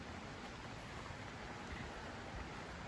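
River near a forest campground in Worlds End State Park, Loyalsock Forest, Pennsylvania, flowing as a steady, broadband rushing wash with no pauses, quiet and even throughout.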